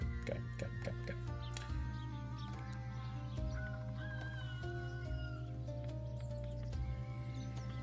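Cats meow in the video game 8 Lives More: several short, tonal cries over a steady layer of low game sound, with no voices.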